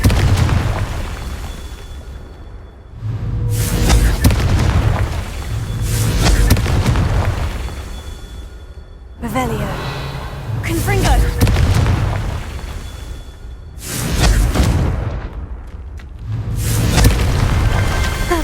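Confringo fire spells explode in the video game Hogwarts Legacy, a series of about five heavy booming blasts with rumbling tails, loud and close, spaced a few seconds apart.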